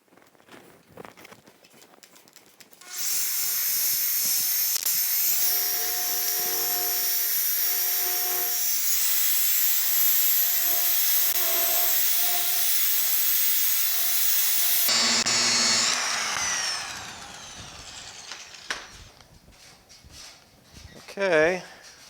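Orbital polisher with a blue foam pad buffing the hood of a 1950 Chevy truck during color sanding and polishing, a steady loud whir running for about twelve seconds, then stopping as speech resumes.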